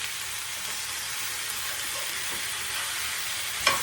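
Pork chops sizzling in a pan around vegetables for French onion pork chops, a steady, fairly close hissing fry that holds evenly, with a small clink of utensil near the end.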